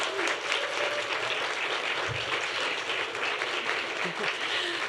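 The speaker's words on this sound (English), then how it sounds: "Give them a big round of applause." A room of investors at the AngelCon 2025 angel investing event breaks into steady, even applause that continues loud and unbroken throughout, with no pauses.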